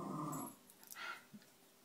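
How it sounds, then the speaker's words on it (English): A dog growls and then whimpers while waiting for a pig's ear, with a low rumbling growl at first followed by faint, brief whines nearby. "the dog wants his pig's ear"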